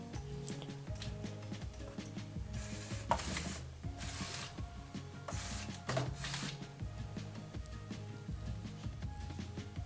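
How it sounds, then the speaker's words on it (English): A joystick-driven LEGO motor turns a gear that moves the claw of a LEGO claw machine back and forth, producing faint, brief whirring bursts and light mechanical ticking that repeat over a quiet hum. "With the joystick, it powers this motor up here, which turns this gear, moving this backwards and forwards, like so"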